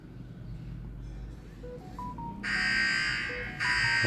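The main hub of a Dahua intrusion alarm kit chirps a few short electronic beeps, then bursts into a loud, harsh alarm siren that pauses briefly and resumes.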